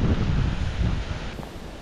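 Heavy wind rumbles and blasts against the microphone during salmon fishing season in Lithuania, loud at first and easing slightly toward the end, with no voices.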